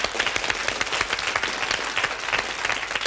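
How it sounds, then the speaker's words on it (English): A studio audience on a game show breaks into a dense, steady round of applause, many hands clapping loudly and continuously with no pauses. "OK, give them a round of applause"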